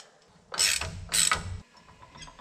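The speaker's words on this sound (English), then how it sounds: "Just tighten down the 3/4 inch nut." A ratchet wrench tightens a 3/4 inch nut on a 30 long-stroke truck brake chamber, giving two close, loud bursts of rapid clicking followed by quieter faint rattles.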